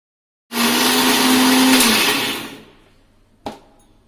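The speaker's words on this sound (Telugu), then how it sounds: "ఈ పచ్చిమిర్చి పేస్ట్ మిక్సీ పట్టిన తర్వాత" A mixer grinder whirs loudly for about two seconds grinding green chilli paste, its motor pitch holding steady and then winding down, followed by a single sharp knock.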